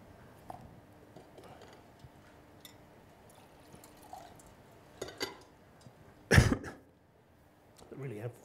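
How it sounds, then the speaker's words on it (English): Coughing in a lecture room: scattered faint coughs and throat clearing, then one sharp, loud cough close by and a softer one at the end, over quiet room noise. "It really amplifies coughs, doesn't it?"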